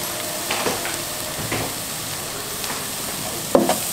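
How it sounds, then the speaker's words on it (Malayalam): Chicken being stirred in a pan with Kashmiri chilli powder and regular chilli powder for a Kerala-style chicken thoran: faint, scattered scraping strokes over a low kitchen hiss, with a slightly louder clatter near the end. "നന്നായി ഒന്ന് മിക്സ് ചെയ്ത് കൊടുക്കാം"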